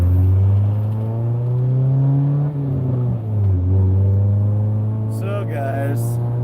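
An Acura Integra driving, its engine a loud, steady droning hum from inside the cabin, pitch rising and dipping briefly with shifts, and a voice talking over it near the end.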